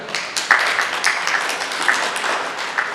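Audience applause at a scholarship information session, a loud steady patter of many hands clapping together, sustained evenly throughout with no pauses.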